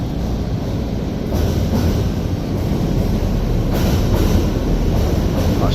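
Steady low rumble of a train rolling past, with a continuous roar and faint rhythmic clatter throughout, fairly loud and close.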